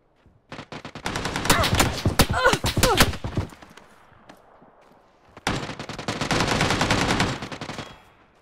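Automatic gunfire in the video game PUBG on the Miramar map, two sustained rapid bursts of shots, loud and close, with a quiet gap between them.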